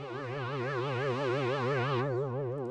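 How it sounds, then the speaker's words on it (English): Logic ES2 software synth holds a sustained, harmonically rich tone with LFO modulation that makes the pitch wobble steadily up and down, like a fast vibrato, alone and loud, then thins out near the end. "as soon as I move this green arrow up, you can hear that it will, the effect of the LFO"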